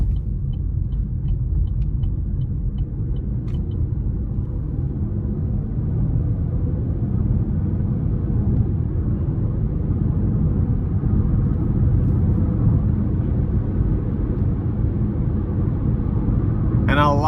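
A 2024 Chevrolet Trax 1RS with a 1.2-liter turbocharged three-cylinder and six-speed automatic drives along, its steady low engine rumble and road noise filling the cabin continuously, with a faint high chirp near the end.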